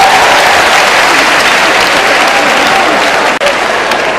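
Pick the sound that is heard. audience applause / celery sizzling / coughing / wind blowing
audience applause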